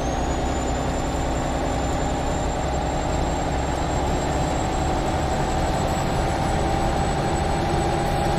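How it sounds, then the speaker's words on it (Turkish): A Neoplan bus engine roars steadily in the video game Euro Truck Simulator 2, a loud constant drone with a faint high whine running through it and no speech. "Nasıl bağırıyor bak motor sesi."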